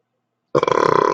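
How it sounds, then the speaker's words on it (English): A single loud, close burp bursts out after half a second of silence, a rough rattling belch lasting about half a second before cutting off. "Classic burp."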